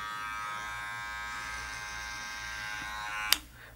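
An electric hair clipper fitted with a number 2 guard hums steadily at close range while cutting hair, the even buzz ending in a sharp click as it stops.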